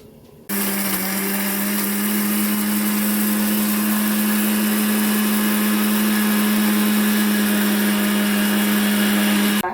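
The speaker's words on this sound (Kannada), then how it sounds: "ಮಿಕ್ಸಿದ ಸೌಂಡ್ ಆಪುಂಡವು ಮಿಕ್ಸಿದ ಸೌಂಡ್" A kitchen mixer grinder grinds masala for a chicken sukka dish, running as a steady, loud, close whine after a brief quiet start and holding an even drone to the end, with no talk over it.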